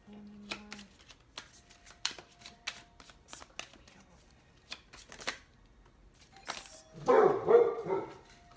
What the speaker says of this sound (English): my dog's in the background